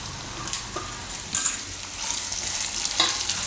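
Raw bananas being stirred in a hot pan with raisins for kela pava, a continuous close sizzle broken by scraping spoon strokes and light clatter, with no talk.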